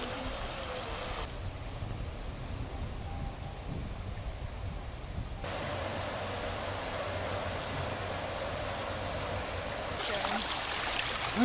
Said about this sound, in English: Here's a little stream formed by runoff from another drain tunnel.